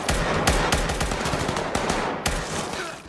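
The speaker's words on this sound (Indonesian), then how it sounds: "mereka langsung disambut dengan tembakan yang berasal dari minion yang berusaha menghentikan mereka" Rapid automatic gunfire from guards in Squid Game season 2, sharp cracks fired in quick irregular bursts with heavy booming low ends, loud and close over a dense background.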